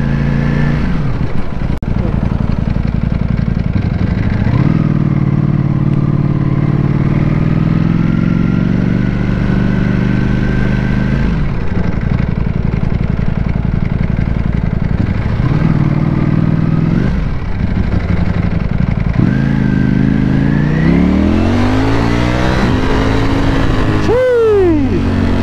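A Ducati Panigale V4S motorcycle rides through London city traffic, its engine loud and close as it revs up and drops back repeatedly, the pitch rising and falling over about twenty-five seconds, with a sharp high whine near the end.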